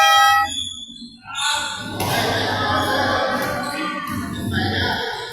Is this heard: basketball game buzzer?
yes